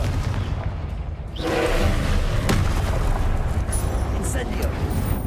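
A Confringo blasting spell detonates in Hogwarts Legacy, a dense rumbling burst that swells after a sharp onset and lingers as a roaring blast, with a voice speaking alongside.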